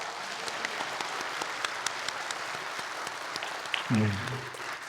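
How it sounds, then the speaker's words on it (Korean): Easter service congregation clapping together in a church, a steady spread of applause filling the room, with a voice briefly speaking near the end. "다 같이 우리 박수로 함께 기뻐해 볼까요?"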